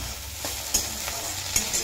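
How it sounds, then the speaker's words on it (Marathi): Okra (bhindi) stir-fried in a pan until soft and dry for a spicy masala bhindi: a soft, steady sizzle close by, broken by a few sharp spatula scrapes and tosses, with no talking. "मस्त भेंडी भाजली आपली आणि अजिबात चिकट झाली नाही."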